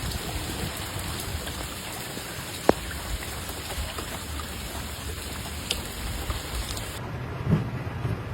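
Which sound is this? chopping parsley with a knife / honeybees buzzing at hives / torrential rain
torrential rain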